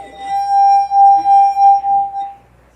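A wet finger rubbing the rim of a wine glass holding water makes a steady singing tone that swells and pulses in several rhythmic waves, loud and close, with no talking.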